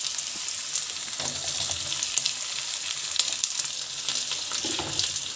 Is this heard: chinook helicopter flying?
no